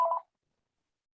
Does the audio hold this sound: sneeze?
no